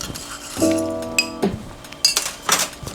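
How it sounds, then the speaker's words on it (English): A bar spoon swizzles a cocktail through pebble ice in a glass, giving bright clinks and chinks of metal against ice and glass at close range, with a sustained ringing tone early on and scattered light taps after it. "Sticking in my bar spoon and giving all the ingredients a good swizzle"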